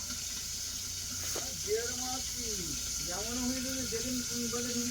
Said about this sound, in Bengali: আমার এখন মাছ ভাজা হচ্ছে